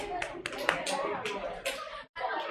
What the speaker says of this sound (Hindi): हाँ, सिंधी बहन के लिए ताली बजा दो जोरदार